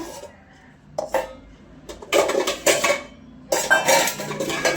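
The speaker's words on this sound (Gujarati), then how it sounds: "ચમચા ને તપેલી ને બધું લઈ લઉં સાસ કાઢવા માટે." A ladle clatters against a metal cooking pot in a home kitchen: a few sharp clinks, then bursts of louder scraping and clanging, close by and with no talking.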